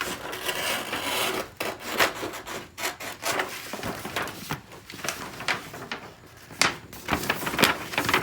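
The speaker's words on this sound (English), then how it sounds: "I'm gonna trim the sides." Trimming the sides of a paper nautical chart, with close rasping cuts and rustling paper handled in irregular bursts and pauses.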